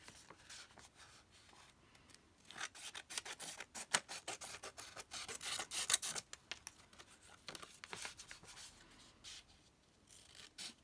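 Scissors trimming napkin collage paper for a craft page, a run of quiet snips and rustling paper rubs in irregular bursts, close and soft, with no talking.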